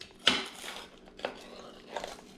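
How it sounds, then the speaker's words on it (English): A knife cuts into a crispy pepperoni pizza crust made from 48-hour dough, giving a few short crunchy crackles and scrapes close up, with a sharp first bite and softer follow-up cuts. "let's go ahead and let's get a cut into this here"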